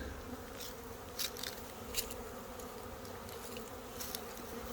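Honeybees buzzing at a beehive sitting on the ground, a faint steady hum with individual bees zipping past close by now and then.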